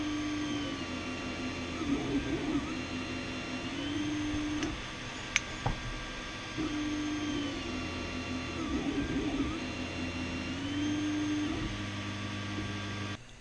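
An Ender 3 Pro 3D printer at work, giving a steady fan whir with a whining, rising and falling stepper-motor tone as the head moves, close and continuous, with no talk.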